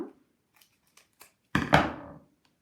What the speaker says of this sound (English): Just trim my pads down.